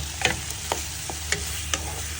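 Shrimp stirred with chicken stock powder in a pan for a patola and misua dish gives a soft, continuous sizzle punctuated by five or six crisp scrapes and clinks of a spoon, with no one talking.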